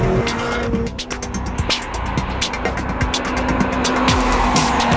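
A loud Honda Civic Si engine screams and pulls hard, revving high to the rev limiter with brief dips as it shifts up through gears to fourth at 80 mph.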